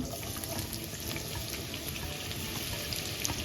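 Chopped onions dropped into hot oil in a pan give off a steady, dense sizzle that holds at an even level throughout, with no one talking.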